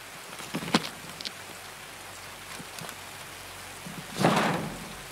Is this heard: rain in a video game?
yes